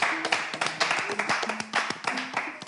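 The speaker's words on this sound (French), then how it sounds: "Applaudissez" An audience claps in quick, uneven bursts during a ceremonial initiation gathering, close and fairly loud, with voices and other sounds mixed among the claps.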